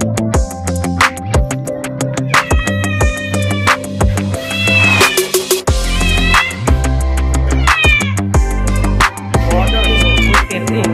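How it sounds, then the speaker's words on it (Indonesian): A cat meows repeatedly and loudly up close, a string of drawn-out, wavering cries with short gaps between them and no voices. "ada kucing lain datang."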